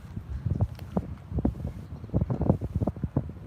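Gusts of wind buffet the microphone outside the city walls of Carcassonne in uneven, close low thumps and rumbles that rise and fall irregularly.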